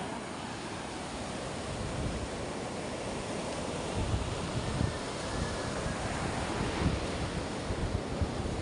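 Ocean waves surge and wash steadily around storm-damaged fishing boats, a broad continuous roar of surf with buffeting wind noise on the microphone and a few heavier swells breaking closer.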